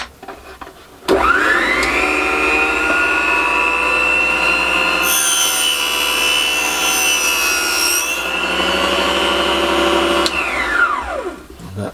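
A power saw switches on and runs at a steady high whine for about ten seconds, cutting a straight flat line for a cyclekart bonnet in a small shed, then spins down; no talking.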